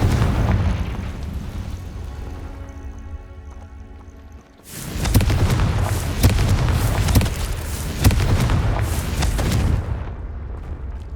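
A Confringo fire spell blasting in the wizarding game Hogwarts Legacy: after a quieter low rumble, a sudden loud burst of crackling explosions rolls on in repeated booming waves, no talk.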